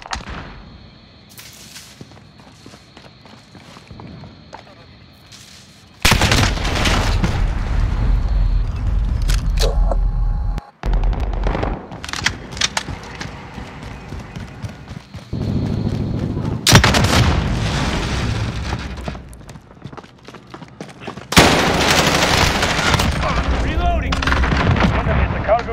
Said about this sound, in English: Allied precision airstrike incoming